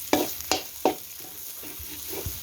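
Nam prik pla tu, a mackerel chili paste, being stir-fried in a pan, three sharp spatula scrapes in quick succession over a low sizzle, then softer stirring taps.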